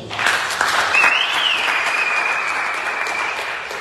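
A congregation at a church service applauding, a dense, steady roar of clapping that stays loud throughout, with a faint whistling tone rising briefly above it.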